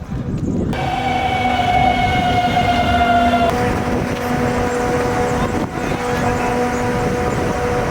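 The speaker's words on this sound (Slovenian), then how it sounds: "Čakamo vlak Pivki, da se vrnemo nazaj v Ljubljano." A train pulls into Pivka station in Slovenia, its loud, steady rumble and screeching wheel tones sustained throughout, with a sharp shift midway as it slows alongside the platform.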